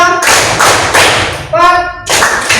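A rhythmic hand-clapping game: a few loud, close claps and thuds in short bursts, with a voice calling out the counts between them.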